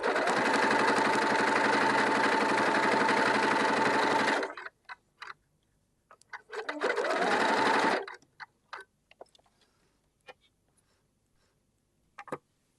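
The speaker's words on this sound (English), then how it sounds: "I'm just using a straight stitch and have a little bit of tension behind and in front of the needle as you sew." Sewing machine running a straight stitch to sew shirring elastic into fabric, with the thread held taut in front of and behind the needle; a steady close whirring burst of about four seconds, a pause with small clicks, then a second shorter run.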